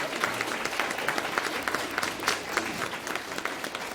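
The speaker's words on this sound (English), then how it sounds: "Let's give her a round of applause." Audience applause at a school board of education meeting honoring a senior student of the month, a moderately quiet, steady patter of clapping with no talk over it.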